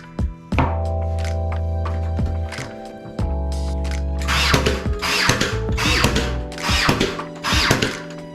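A nail gun or power tool fires and whirs in short bursts while baseboards are fastened during a bathroom remodel. Sharp thunks and hits stand out over a droning motor, close and loud.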